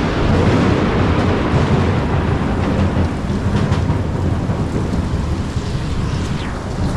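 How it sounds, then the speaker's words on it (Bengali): Heavy rain pours steadily during a sudden village rainstorm while thunder rumbles loud and close, a dense roar filling the whole clip without any voices. "এই বজ্রঘাত পড়ছে এরকম ঘন ঘন।"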